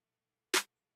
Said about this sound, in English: It's more of like a clap snare